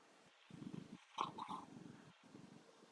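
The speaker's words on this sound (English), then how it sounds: "He's purring like a monster." A pet cat named Socks purring loudly up close, a low rumbling burr that rises and falls in steady breaths, with a brief higher chirp partway through.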